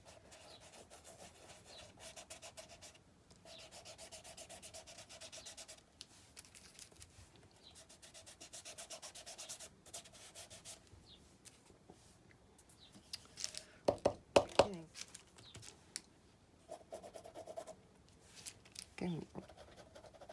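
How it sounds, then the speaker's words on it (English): Soft, scratchy rubbing strokes as gold is worked onto a textured artwork surface, quiet and close, coming in uneven bursts with a few sharper scrapes, and a voice speaking at times. "Rubbing some gold on those textures."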